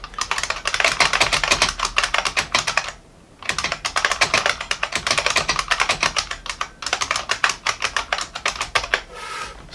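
A screw-modded Unicomp Mini M buckling-spring keyboard typed on fast and steadily up close. It gives loud, dense, clacky keystrokes with two brief pauses and no talking.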